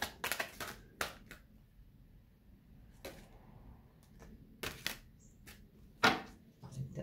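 A tarot deck is shuffled by hand in a quiet room, giving scattered bursts of soft card riffles and taps with short pauses between them.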